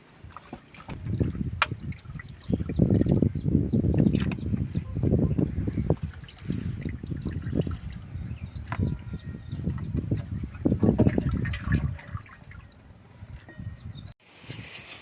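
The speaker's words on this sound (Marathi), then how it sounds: "त्यामध्ये पाणी टाकून मित्रांनो हे चिकन एक ते दोन वेळे चांगलं धुवून घ्यायचं आहे" Raw chicken pieces being washed in a vessel of water, with close, continuous sloshing and splashing that churns in uneven bursts before stopping abruptly.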